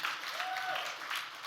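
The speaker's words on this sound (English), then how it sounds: "Clap it up for Super Brew." Applause from an audience at a social media talk during Summer Brand Camp 2015, a brief, fairly faint patter of clapping with a voice briefly audible over it.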